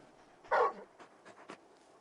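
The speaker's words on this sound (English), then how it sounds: "You're just a big puppy, aren't you? A very big puppy." A large dog companion in Final Fantasy 16 gives a short, loud whimpering yelp followed by a few softer whines and pants, heard alone and close.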